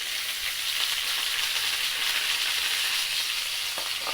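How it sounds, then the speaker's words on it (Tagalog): Garlic, onion and tomato fry in a pan for adobong okra, a steady loud sizzle with faint stirring scrapes, close and continuous with no talk. "Halo-haloin natin yung bawang, sibuyas at kamatis."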